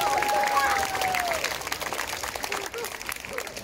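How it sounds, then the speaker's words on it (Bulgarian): A large crowd at an outdoor revue in Vidin, staged as a Guinness record attempt, applauds actor Deyan Donkov with steady clapping and some cheering, a thin whistle-like tone gliding through the first second. "Аплодисменти!"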